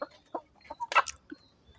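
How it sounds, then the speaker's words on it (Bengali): A white rooster and a white hen cluck in a few short, close bursts, with one louder, fuller call near the middle and quiet gaps between. "সাদা রাতা এবং সাদা মুরগি"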